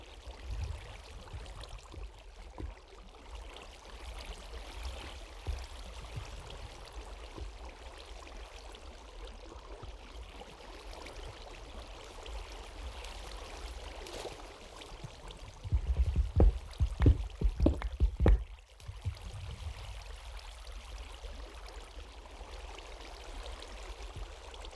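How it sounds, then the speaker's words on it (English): Steady trickling and rushing of water flowing through a cave in Minecraft, a soft continuous wash with a brief louder splashing burst partway through. "there's the water I've been hearing"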